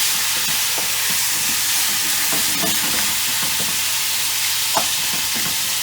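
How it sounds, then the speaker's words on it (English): Lamb pieces brown in a hot pan, a steady, loud hiss of sizzling fat with occasional scrapes and small pops as the meat is stirred, close up and without talk. "I'm going to brown this off, do another batch, brown it off."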